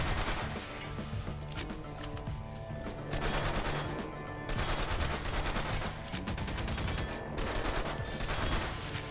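Rapid bursts of automatic gunfire ring out in Garry's Mod, sustained and loud for the whole stretch, with brief lulls between volleys and dense overlapping shots.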